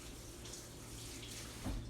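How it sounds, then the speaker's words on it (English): Tap water runs steadily as something is rinsed off at a kitchen sink while making homemade sauerkraut; a faint, even rush with a slightly louder splash near the end, no voices. "Let me just rinse this off."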